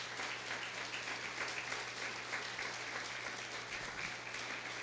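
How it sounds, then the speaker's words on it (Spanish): A church congregation applauds, producing a steady, dense wash of clapping that holds evenly from start to finish over a low constant hum, moderately distant. "Dale un aplauso al Señor"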